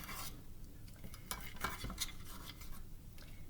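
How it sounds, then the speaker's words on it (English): A knife dices a peeled orange on a cutting board with soft, faint taps and wet squelches in an uneven rhythm over a steady background hiss, close by and without talking. "So now I would just start dicing the orange into pieces."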